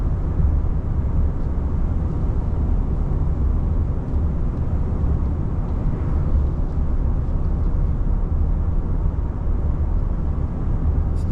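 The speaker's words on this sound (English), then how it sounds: "Some of the noise you're hearing is actually road noise." Cabin of a 2024 Nissan Frontier Pro-4X pickup driving on the road: a steady, low rumbling road noise fills the interior at an even level, with no talk heard.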